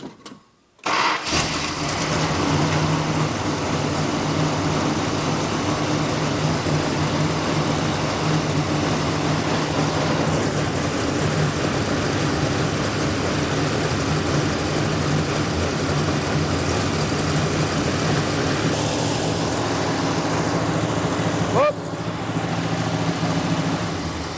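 A long-forgotten Dodge Monaco engine cranks and catches after years of sitting, then holds a steady, loud idle that runs on for over twenty seconds with no talking.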